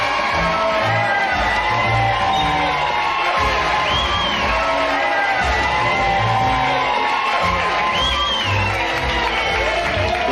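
A large crowd at Splash Mountain cheering, whooping and yelling continuously, loud and dense with overlapping shouts throughout.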